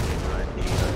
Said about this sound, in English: what was he doing, launching illegal fireworks?